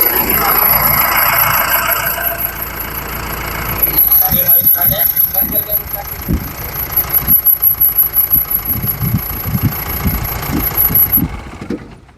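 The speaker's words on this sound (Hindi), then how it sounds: "इंजन का नॉइस आपको सुना के दिखाते हैं" A Mahindra Bolero pickup's BS4 diesel engine idles close by with a steady knocking rumble, loudest after a brief start-up surge, running continuously to the end.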